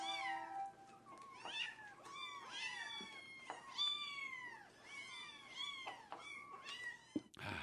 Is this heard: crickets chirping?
no